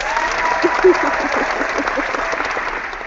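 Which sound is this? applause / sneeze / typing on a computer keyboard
applause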